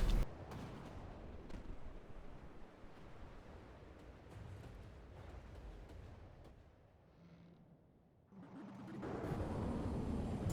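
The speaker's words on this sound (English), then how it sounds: "It's also firing some massive cluster missiles" Massive cluster missiles fire in the naval combat game From the Depths, a dense roaring rumble of launches and blasts with sharp transients, dipping briefly near the end before swelling loud again.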